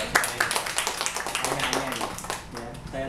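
Hands clapping at an organization management training session, a quick run of sharp claps over a few seconds mixed with a voice and room noise.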